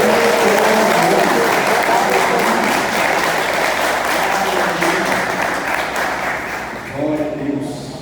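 A church congregation applauds in sustained, dense clapping that stays loud and steady, easing slightly toward the end as a voice starts to come through.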